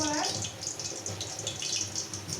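Cooking oil poured into a pan to start a potato fry makes a short, continuous, soft liquid splashing that stays fairly quiet and steady throughout.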